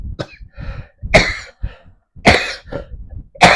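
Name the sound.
coughing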